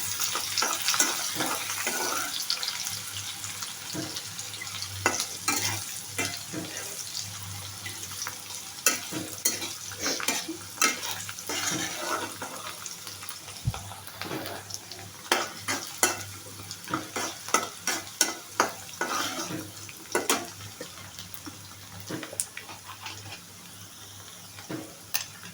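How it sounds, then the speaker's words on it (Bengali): Chopped onion and garlic fry in a pan while a spatula stirs them, giving a soft continuous sizzle punctuated by frequent scraping clicks and knocks against the pan, close and fairly quiet, no talking. "পেঁয়াজটা রসুনটা একটু ভালো করে ভাজা মতো হলে"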